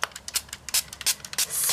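Short bursts of hissing spray from a spray paint can, several quick puffs in an irregular rhythm, ending in a longer sustained spray, close up.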